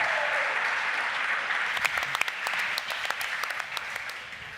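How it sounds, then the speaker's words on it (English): A crowd applauds steadily, the clapping dense and sustained, fading slightly toward the end with no voices over it. "Just a round of applause for all their amazing work over the past 2 days."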